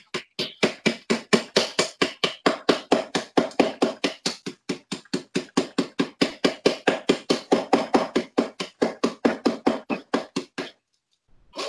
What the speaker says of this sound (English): tenderizer, which is basically a hammer